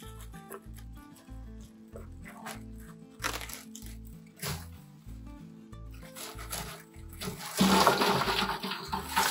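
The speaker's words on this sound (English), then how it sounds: "All that noise, I'm sorry, but that's the dry ice." Dry ice dropped into water inside an immersion-chiller setup while brewing, giving a continuous close fizzing and bubbling hiss that swells into a louder, dense rush of boiling-like churning near the end.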